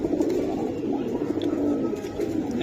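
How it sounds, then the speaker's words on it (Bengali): A flock of red-tailed (lal dom) pigeons coos in a continuous low, throaty murmur, several birds overlapping close by without pause, with faint background chirps and no talking. "হ্যাঁ লাল দম কবুতর ভাইয়া"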